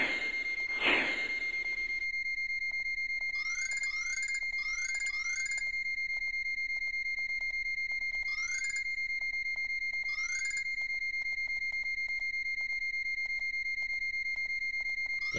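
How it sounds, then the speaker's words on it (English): An alarm is set off in the PC adventure game Space Quest V: The Next Mutation: a steady electronic tone holds throughout while bursts of chirping warble repeat in irregular clusters, loud and alone with no voices. "It appears that you have triggered some sort of alarm."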